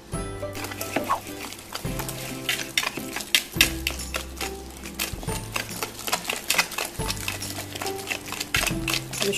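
Sweet potato brownie batter with eggs, demerara sugar and olive oil is mixed in a bowl, with repeated sharp clinks and scraping strokes in an uneven rhythm over a low hum.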